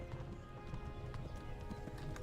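Horse hooves clip-clopping in the medieval game Kingdom Come: Deliverance, a quick uneven trot of soft thuds under a dense, busy game soundscape with no speech.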